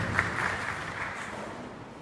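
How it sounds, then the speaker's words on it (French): Steady applause from a crowd at a conference in Nioro, a continuous broadband patter holding at an even level before easing slightly toward the end. "Et nous accueillons par vos applaudissements."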